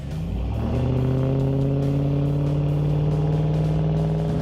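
A Dodge Ram 1500 pickup fitted with ICON suspension pulls away, its engine droning steadily and loudly close by as the pitch climbs slightly under acceleration, with no talking.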